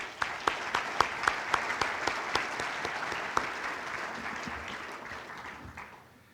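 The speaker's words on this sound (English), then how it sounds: "Please give yourselves a round of applause." Audience applause at an environmental event fills the room steadily, with dense clapping and a few sharper nearby claps early on, gradually thinning and fading out near the end.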